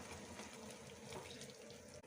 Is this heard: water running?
yes